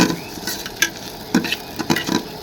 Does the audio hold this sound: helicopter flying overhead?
no